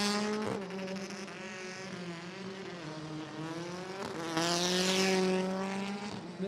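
A BTCC touring race car at Donington Park roars past during free practice, its engine note rising and falling through gear changes, close and loud, with the pitch shifting as it goes by.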